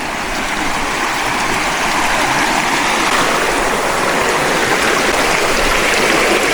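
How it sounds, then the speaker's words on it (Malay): A river stream at Bukit Perangin rushes and gurgles in a steady, loud, broad wash of flowing water, close by and uninterrupted throughout. "Kena rentah sungai."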